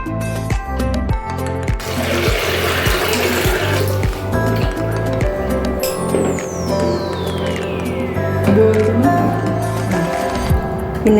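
Water poured into a pot while cooking soaked chana dal for holige, a rushing splash that fills the room alongside rhythmic clattering background music.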